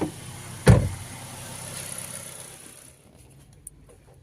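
A Ford Focus with a worn automatic transmission bearing rattles while driving. A steady engine and road drone carries one sharp, loud knock early on, then the noise thins out and fades near the end.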